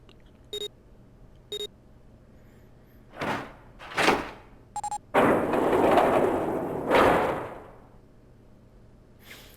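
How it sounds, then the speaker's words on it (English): A heavy door opening in the video game 999: two short electronic beeps, a couple of dull thuds, then a loud broadband mechanical whoosh sustained for a few seconds before fading to quiet. "The door had opened."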